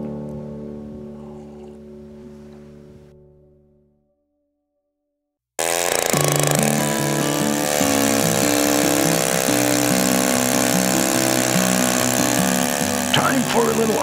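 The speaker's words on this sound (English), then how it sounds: "as I got drilling the hole, I was wondering if I had enough auger to get through it." Gas-powered ice auger drilling a hole through mountain lake ice for ice fishing in March, a loud steady two-stroke engine drone with shifting pitch that starts abruptly after a fading stretch and a brief silence.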